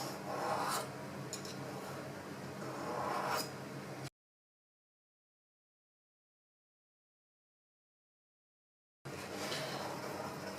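Light rasping strokes of a titanium 1911 pistol trigger part rubbed against a sharpening stone, a few short passes, then a gap of silence before the scraping resumes.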